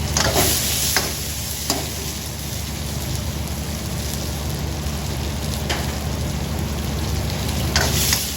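Onion dry-frying in a pan makes a close, steady hiss and crackle with a few louder stirring scrapes throughout, and no voices.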